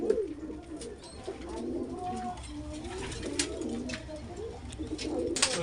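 Kaldam, Laldam and Rampuri pigeons cooing in soft, rolling throaty calls that overlap continuously, close by, with faint human voices and small sharp clicks in the background.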